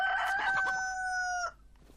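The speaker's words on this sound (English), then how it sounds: "There's a chicken." A chicken in the video game DayZ lets out a single loud crowing call, held for over a second and then cut off abruptly, heard alone without any talk.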